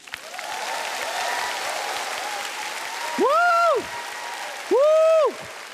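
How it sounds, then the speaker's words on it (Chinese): An audience at the Golden Horse Awards ceremony keeps up steady, dense applause throughout, with two loud, rising and falling synth stings cutting over the clapping near the end. "也给邓超一个掌声。"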